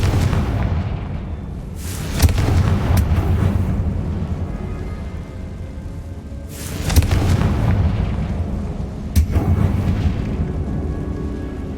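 Confringo blasting spell in the Hogwarts Legacy video game: a series of deep booming explosions, three loud blasts with rumbling tails, heavy and close.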